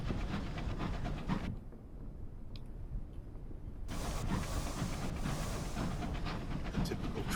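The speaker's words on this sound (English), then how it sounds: "The typical train sound in stereo." A stereotypical train sound in the Sunless Skies video game, a steady rumbling wash in stereo that briefly drops away and then returns, with faint clicks over it.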